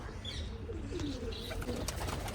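Pigeons coo softly in a low, rolling murmur, with a few brief chirps mixed in, faint and close by with no talking.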